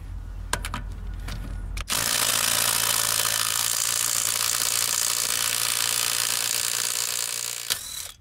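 A Hercules 3/8 battery impact wrench hammers continuously for about six seconds to break loose a lug nut, a loud, dense rattling buzz up close, preceded by a few sharp clicks and ending abruptly.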